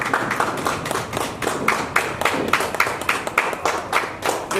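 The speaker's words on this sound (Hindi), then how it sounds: "तालियां बजते रहनी चाहिए।" An audience claps at a local event, a rhythmic run of sharp claps at a steady pace, moderately loud and continuous with no other sounds on top.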